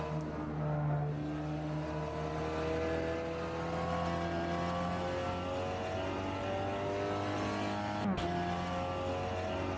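A VW Golf GTI TCR front-wheel-drive race car at Circuit Goodyear holds a steady, loud engine drone with shifting harmonic pitch, with a brief sharp shift or blip near the end.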